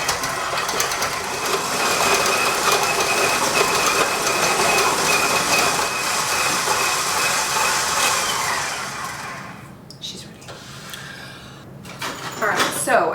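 A stand mixer with its paddle attachment beating butter to soften it, a steady loud whirring churn that runs for several seconds and then cuts off, with someone talking nearby.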